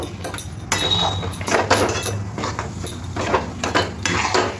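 Metal utensil scraping and clinking against a pan in repeated strokes, close and fairly loud, as fried spices are mixed into a cauliflower chop filling.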